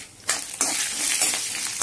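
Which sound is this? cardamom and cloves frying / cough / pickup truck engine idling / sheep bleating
cardamom and cloves frying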